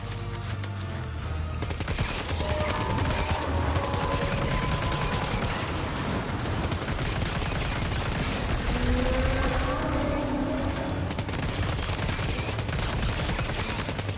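Sustained assault rifle gunfire in Death Stranding 2, a dense unbroken rattle of rapid shots at high volume throughout, layered with rumbling battle noise and faint tonal sounds underneath.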